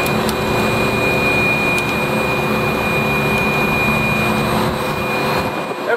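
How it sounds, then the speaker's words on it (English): A Bacharach PAGM leak detector's pump draws an air sample in a grocery store, a steady close-up mechanical hum with a thin constant whine running unbroken throughout. "I'm pulling a sample with the pump"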